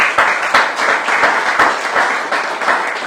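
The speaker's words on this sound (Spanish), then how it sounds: "Un aplauso al Señor." A congregation at a church Bible teaching session gives a dense, steady round of applause, with many hands clapping together loudly and evenly for the full length.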